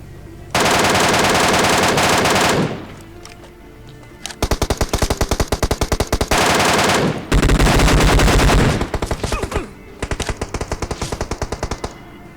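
M4 rifle fire in the PUBG Mobile game: loud, close, rapid automatic bursts come in several long volleys separated by brief pauses, with no voices.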